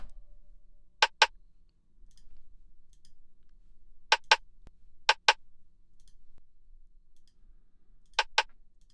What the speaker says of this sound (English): Next was this little perk sound.